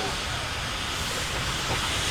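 Steady broadband steam hiss from a vintage steam road engine at the Shrewsbury Steam Rally in Onslow Park, continuous and fairly loud, with no talk over it.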